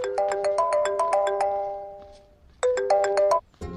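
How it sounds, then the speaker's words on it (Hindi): A phone ringtone signals an incoming call: a bright, repeating electronic melody plays in one long burst, pauses briefly, then starts again, close and clear. "आपको किसी का फोन आ रहा है।"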